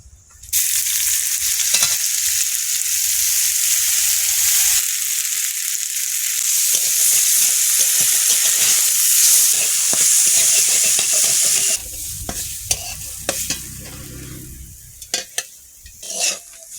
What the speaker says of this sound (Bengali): ডালগুলো দিয়ে দেবো। তেল গরম হয়ে গেছে।